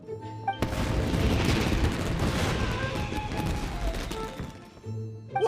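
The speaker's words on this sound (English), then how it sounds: "Fireworks aren't just for festivals, you know." Fireworks burst in Genshin Impact as a dense, continuous barrage of booming, crackling explosions that runs loud for about four seconds before quickly cutting back to quieter ambience.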